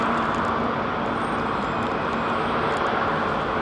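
A British Airways jet departing London Heathrow, a steady broadband engine roar with a faint high whine, holding constant and fairly loud throughout with no voices.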